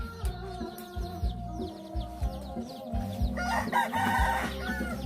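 A rooster crows loudly and close by in a hill village, with repeated drawn-out calls and hen clucking mixed into the farmyard clatter.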